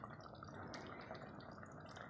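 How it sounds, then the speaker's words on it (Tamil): Water is poured into a pot of rice and chicken masala for a simple homemade biryani, a steady, soft liquid splash with faint drips and no talking. "அதுக்கு தகுந்த மாதிரி தண்ணி ஊற்றிக்கிறேன்."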